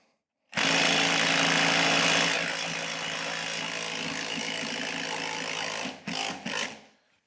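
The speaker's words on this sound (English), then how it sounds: "Let's go ahead and tighten up our centering screw here." Milwaukee M12 impact driver drives a centering screw into a TV wall mount: a loud, close rapid ratcheting hammer that runs steadily for about five seconds, then stutters in a few short final bursts.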